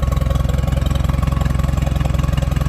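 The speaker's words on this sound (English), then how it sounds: "you can come to a stop and the tractor stays running" A Case tractor engine idles steadily up close, its low, even chugging pulse repeating without a break and no voices over it.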